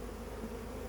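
Honey bees buzz at the entrance of a crowded backyard beehive during a summer inspection, a dense steady drone of many wings, close and continuous.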